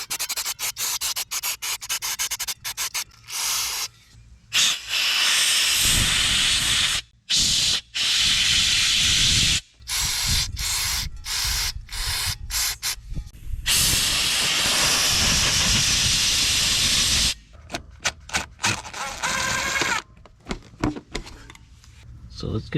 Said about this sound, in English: So I got some mass airflow sensor cleaner.